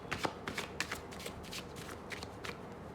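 Tarot cards shuffled and drawn during a reading, a series of soft papery riffles and flicks, close and fairly quiet, with no talking.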